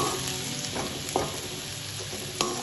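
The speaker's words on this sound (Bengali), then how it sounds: "আবার একটু নেড়ে চেড়ে দেব" Eggplant frying in a pan for a drumstick-flower chorchori, a continuous close sizzle with a couple of sharp scraping stirs, no one talking.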